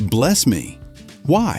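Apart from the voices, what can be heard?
No everyday noise stands out behind the speech.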